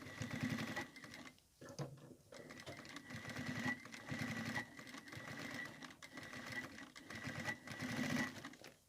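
A sewing machine stitching fabric for a wallet, a steady fast rhythmic whirring and needle clatter running close and continuous, with a couple of brief pauses between runs of stitching.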